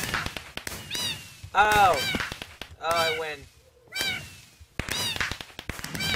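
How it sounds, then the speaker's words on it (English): A video game cat meows repeatedly in high, wavering cries, several distinct meows spread across the clip, loud and close, with a brief spoken exclamation in between. "that's the most annoying sound. What, the cat?"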